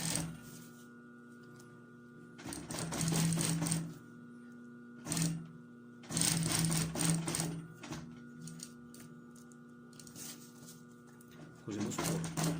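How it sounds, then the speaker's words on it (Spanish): A sewing machine stitches along the edge of a purse pocket in short whirring bursts of a second or two. Quiet gaps with a steady low hum separate the bursts, and a voice speaks between them. "Cosemos por toda la orillita."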